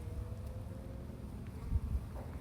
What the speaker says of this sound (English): I don't know what kind of bees these are because I can't see them to identify them.